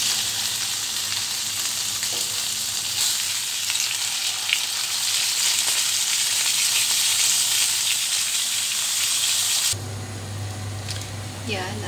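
Tilapia frying in a pan, a dense, loud, continuous sizzle and crackle close up, with a sudden change near the end as the hiss thins and a low rumble comes forward.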